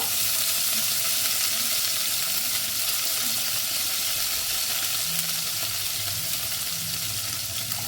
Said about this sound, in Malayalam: എണ്ണ ചൂടായിട്ടുണ്ട് അതിലേക്ക് ചെറുജീരകം ഇട്ട് കൊടുക്കുക കറിവേപ്പില ഇട്ട് കൊടുക്കുക